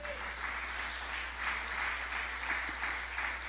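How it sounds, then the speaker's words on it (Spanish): A church congregation applauds steadily, a soft, distant patter of many hands that swells and eases in waves without pause, with no one speaking over it. "Sí, denle el aplauso si quiere"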